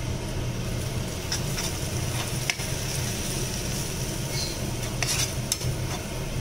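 Butter and maida sauté in a pan for white sauce, a continuous close sizzle with occasional scraping strokes and faint metallic clinks of a utensil against the pan.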